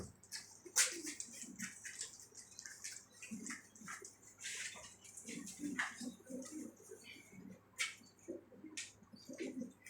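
Pigeons in a loft, soft cooing and brief wing flaps and shuffles scattered over a quiet background, with faint chirps and a low steady hum.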